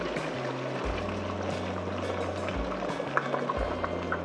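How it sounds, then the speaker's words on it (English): Water pours steadily into a stew pot of goat meat and garden vegetables, a continuous liquid rush with a low hum running underneath. "So add in water."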